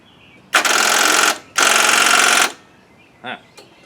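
A 1995 Nissan engine cranks on its starter in two loud, rattling bursts of about a second each, close up, followed by a brief shorter buzz and a click.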